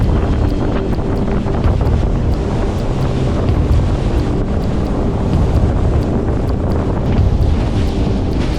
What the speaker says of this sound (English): It's starting to get windy out here.